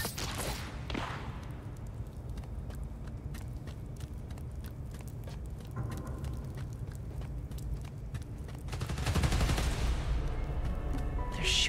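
Gunfire from the video game Marvel's Spider-Man: Miles Morales, with a steady stream of rapid shots over a constant low rumble, swelling louder and denser near the end.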